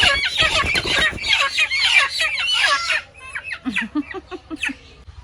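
A flock of chickens brought home from the market: dense, overlapping squawking and flustered cackling for about three seconds, then a run of sharper, separate clucks, fairly close and with no talk over them.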